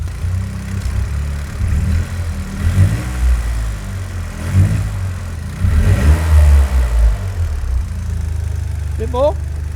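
A Toyota GR Yaris with a Weldspeed intake is revved several times in quick bursts over a low idle, each rise swelling loud and close before falling back, with voices talking in between.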